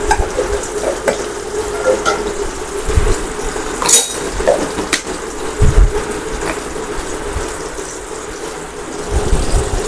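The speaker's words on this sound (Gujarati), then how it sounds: "હજી થોડીક વાર આપણે તેલમાં સાતળી લેવા પડશે, જેથી કરી અને ભીંડા બરાબર ચડી જાય" Okra sizzles steadily in hot oil in a pan, with a continuous close frying hiss and occasional stirring scrapes and clinks of the utensil, and no one talking.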